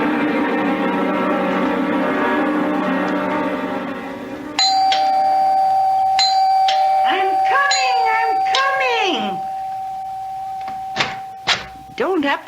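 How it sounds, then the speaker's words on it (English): A doorbell rings in a CBS Radio Mystery Theater drama, giving several loud, close, bright multi-tone chimes pressed again and again, followed by a few sharp knocks. "Don't have to rip the bell off the door, young man."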